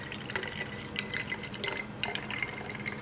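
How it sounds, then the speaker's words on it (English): Filtered water runs into a spray bottle as it is filled halfway, a steady close trickle with bubbling and splashy drips throughout, no voices. "you're going to want to fill it about halfway"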